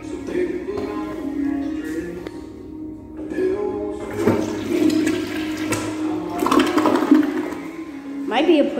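A toilet in a Kwik Star unisex restroom flushes nearby with a loud rushing swirl of water that surges and gurgles throughout, rising again near the end.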